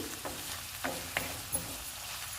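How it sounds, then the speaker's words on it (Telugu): Tomato, ginger, onions and green chillies fry in a pan for egg rice, giving a soft, steady sizzle with a few faint clicks of stirring, quiet and close with no talk. "టమాటో, అల్లం, ఆనియన్స్, పచ్చిమిర్చి అన్నీ వేయించుకోవాలండి"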